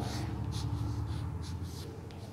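Pen strokes scratching across paper as numbers are written by hand, short repeated scribbles close up over a low steady background hum.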